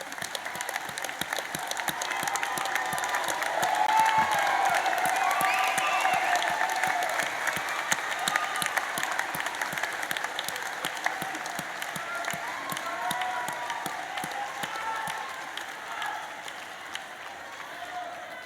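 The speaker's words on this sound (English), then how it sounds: "Please stand and applaud them for what they've done." Sustained applause from a large graduation ceremony crowd at the University of Waikato, graduates clapping for their friends and family, a steady dense roar of hands filling the hall throughout, gradually easing toward the end.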